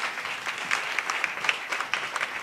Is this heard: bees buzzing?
no